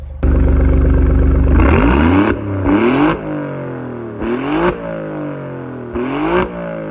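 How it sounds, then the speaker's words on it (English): A 2017 Alfa Romeo Giulia Quadrifoglio engine revs hard through aftermarket exhaust tips several times in quick bursts, deep and loud, with the pitch rising and falling between blips and a brief hiss after each. "these are aftermarket exhaust tips, which we should probably listen to see how they sound"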